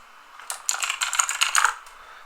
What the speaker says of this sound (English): Sorry about the typing. You guys are going to be hearing that a lot.